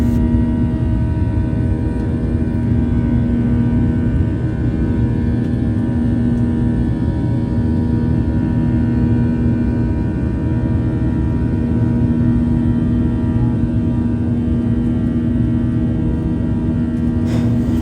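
An American Airlines jet taking off from JFK, heard as a loud, steady engine roar and rumble from inside the cabin that holds constant with no talking.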